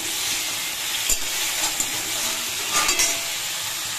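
Fish head and Malabar spinach sizzle steadily in a pan, a constant frying hiss up close, punctuated by a few sharp clinks and scrapes of a utensil stirring against the metal.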